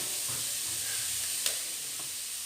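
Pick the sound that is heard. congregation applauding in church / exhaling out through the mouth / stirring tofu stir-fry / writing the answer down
stirring tofu stir-fry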